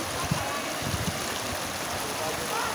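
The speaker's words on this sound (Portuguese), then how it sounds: "O bar de Moisés, a água invadiu" Floodwater pouring through a flooded street in Km 100, a steady broadband wash of flowing water with low splashing bursts, close and continuous, with faint voices underneath.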